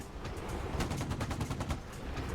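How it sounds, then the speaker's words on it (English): Aircraft cannon fire in the combat flight simulator DCS World during an attack on an enemy convoy: a loud, rapid burst of shots runs for about a second over steady engine and battle noise. "He's working the cannon."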